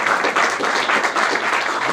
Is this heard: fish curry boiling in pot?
no